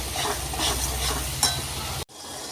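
Spice paste of ginger and tomato sautéing in a pan, a steady close sizzle with stirring scrapes and one brief louder clack, cutting off abruptly to a quieter hiss near the end.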